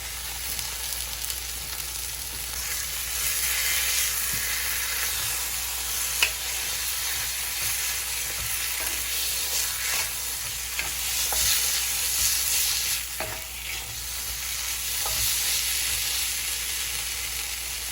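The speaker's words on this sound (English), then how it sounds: "we're gonna be using pork chorizo, and you are just gonna throw it in your hot skillet" Pork chorizo sizzles in a hot skillet, a steady, dense frying hiss that holds for the full stretch, broken by occasional small pops and utensil taps.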